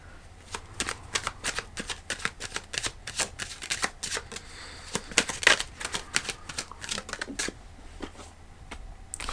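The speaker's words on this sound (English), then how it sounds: "I'm gonna pull cards from the Dreaming Way Tarot." Dreaming Way tarot cards shuffled close up, a steady run of quick papery riffling flicks and soft slaps that keeps going without pause, with no one talking over it.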